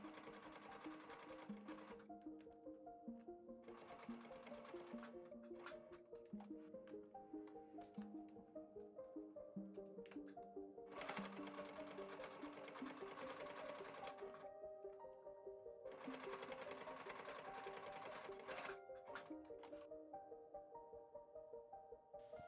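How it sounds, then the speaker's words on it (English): A sewing machine stitches a four-layer fabric face mask in rapid, even bursts of mechanical clatter with brief pauses between runs, close and alone with no talking. "Now, time to sew."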